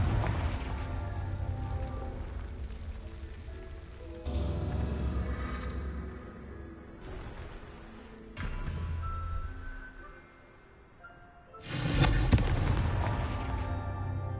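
Repeated Confringo fire spells blast in Hogwarts Legacy, heavy roaring bursts that rumble and crackle in long sustained waves, with a sharp loud blast near the end and no talking.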